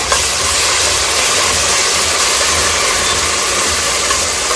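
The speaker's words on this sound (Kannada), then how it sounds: "ಸ್ವಲ್ಪ ಕರಿಬೇವು ಸೊಪ್ಪು ಸ್ವಲ್ಪ ರುಬ್ಬಿದ ಮಸಾಲೆನ ಫ್ರೈ ಮಾಡ್ಕೊಳ್ಳೋಣ" Curry leaves and ground masala fry in hot oil, producing a loud, steady hiss and sizzle that holds constant from start to finish with no talking.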